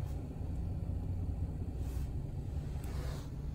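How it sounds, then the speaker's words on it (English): A Nissan Frontier pickup truck idles smoothly, a low, steady engine rumble with brief faint hiss bursts, heard close and alone. "Nice smooth running little truck."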